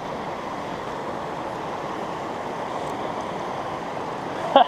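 Cold mountain creek running hard down a trail crossing, a steady broadband rush of flowing water that stays constant and fairly close throughout, with no voices over it.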